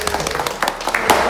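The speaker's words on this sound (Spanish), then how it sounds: "le vamos a dar un fuerte aplauso" An audience bursts into a short round of applause for a guest, with scattered claps layered over nearby talking and crowd noise.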